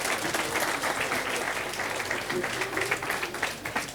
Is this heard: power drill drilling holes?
no